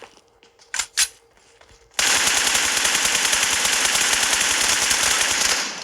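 Automatic gunfire in a video game: two short separate shots, then a sustained, loud, rapid stream of machine-gun fire that runs steadily for several seconds before tapering off.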